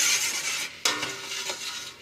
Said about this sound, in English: So just give it a gentle stir